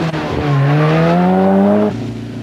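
A Group A Ford Sierra rally car on a 1987 Ulster Rally stage, its engine note rising loudly and steadily in a brief, close pass before cutting off abruptly, with no talk.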